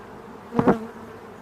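Honey bees at an open WBC hive during an inspection, with one close, brief buzzing pass over a faint steady hum.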